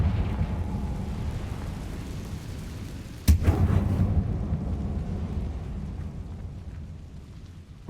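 A Confringo fire spell explodes in the video game Hogwarts Legacy, a single sharp blast a little past midway that booms into a deep rumbling roar, over a steady low background rumble of game ambience.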